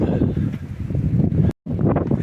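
Strong coastal wind at Senj, Croatia, roars as a continuous buffeting gust against the microphone, broken only by one short gap in the sound.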